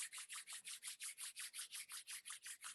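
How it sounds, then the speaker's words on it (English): Palms rubbing briskly together in a quiet room, a steady back-and-forth swish repeating about five times a second, close and soft, with no voices. "We're going to start by rubbing our hands together."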